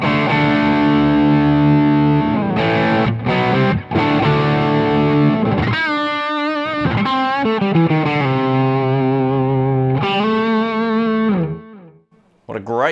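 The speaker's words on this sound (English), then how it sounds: "So I've got the Kalen C300 on the floor, and this is the overdrive, which is kind of based on a tube screamer." An electric guitar on the bridge pickup plays through the overdrive channel of a Kalen C300 pedal, a Tube Screamer-style drive, giving loud, saturated sustained chords and bending single notes that ring out before cutting off at the end.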